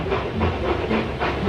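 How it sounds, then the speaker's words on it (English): Steam engines puff steadily into a rail yard, with loud broadband steam hisses in repeated chuffs about every half second and a faint clickety-clack of train wagons beneath. "James and Edward puffed into the yard."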